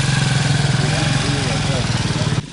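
A motorcycle taxi engine chugs loudly and close on a rough road, with a steady rhythmic idle-like throb that cuts off near the end.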